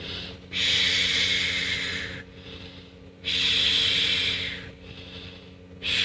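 Deep diaphragmatic breathing, slow and deliberate, with long hissing airy inhales and exhales close to the listener, each breath lasting over a second with short pauses between, heard alone without talk.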